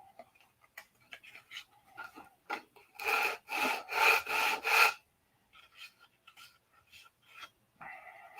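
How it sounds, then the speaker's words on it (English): A balsa wood headrest is sanded by hand, with a burst of about six quick rhythmic scratchy strokes in the middle, framed by sparse faint clicks and scrapes in a quiet room. "I'll sand a balsa wood headrest and put on there."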